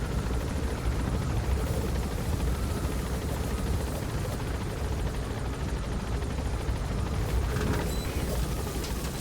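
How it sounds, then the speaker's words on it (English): A helicopter's rotor drones in a steady, loud, heavy rumble throughout, with faint combat noise underneath, in Metal Gear Solid V: The Phantom Pain. "Oh, there's a copter I need to take out too."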